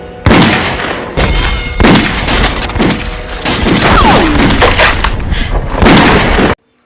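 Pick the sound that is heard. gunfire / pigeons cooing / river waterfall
gunfire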